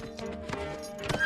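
Horse hooves clop in an uneven rhythm as a king rides through a forest, a few close knocks with a brief whinny-like note near the end, set against a steady background bed.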